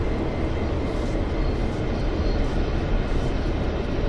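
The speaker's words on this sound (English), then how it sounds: "Oh, cool, this one's a goods wagon, look. Goods train." Goods train passing in the game Train Sim World 2, a loud, continuous rolling rumble of freight wagons on the track, steady and close throughout.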